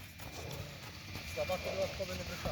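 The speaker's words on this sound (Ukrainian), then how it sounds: "Кобила хоче йти, кобила хоче роботи" A sturdy draft mare, about 1.66 m tall, walks on slippery ground, her hooves clip-clopping in a steady rhythm under ongoing talk close by.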